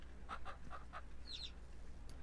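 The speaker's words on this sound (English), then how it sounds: "Well, we have a chicken that ran in there." A chicken in Ranch Simulator clucks in a quick run of four short calls, followed by a higher squawk and a brief final cluck, fairly close over a low steady hum with no talking.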